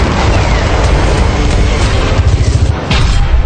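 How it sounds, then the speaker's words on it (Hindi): Loud, dense rumbling blasts from a series of explosions at an Israeli military base fill the air continuously, a heavy booming roar with crackling texture and no voices. "इजराइल के फिलौन बेस पर भी एक के बाद एक कई धमाके हुए।"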